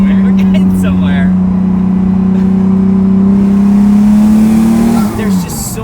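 A 750hp twin-turbo Lamborghini Diablo at full throttle, its engine a loud, steady sustained roar from close inside the car that holds for several seconds before easing off near the end.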